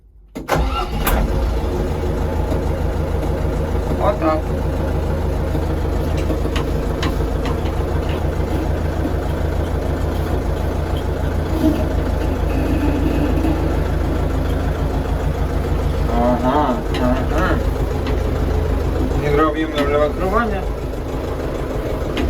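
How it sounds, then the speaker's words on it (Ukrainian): A KATA KE354 cab tractor's engine starts with a short burst and then settles into a steady, loud, low idle that runs close by throughout, with a few faint knocks and rattles on top. "Ну що, запускаю тракторець?"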